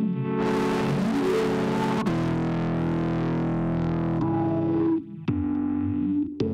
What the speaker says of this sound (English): we can use the distortion to actually accentuate that